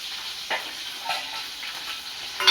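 Curry leaves, green chilli and boiled potato frying in oil for sabudana khichdi, a steady close sizzle with a couple of soft stirring scrapes and a sharp clink at the end.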